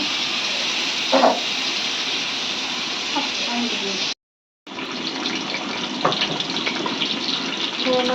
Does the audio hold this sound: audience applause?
no